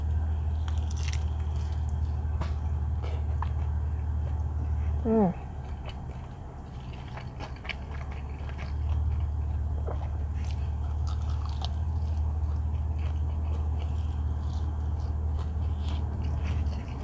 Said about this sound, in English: It's crunchy and juicy.